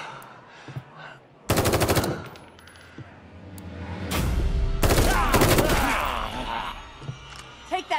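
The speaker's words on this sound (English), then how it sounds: "Keep shooting until they're dead or we run out of ammo." Rapid automatic gunfire in The Evil Within 2 video game comes in loud, sustained bursts with short pauses, mixed with thuds and low groaning voices.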